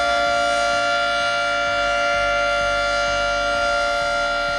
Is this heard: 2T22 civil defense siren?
yes